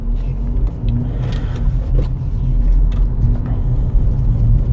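Car on a driving-exam route in Vinnytsia pulling away from a junction, with a low engine rumble that builds and swells from inside the cabin, steady and moderately loud with no voices.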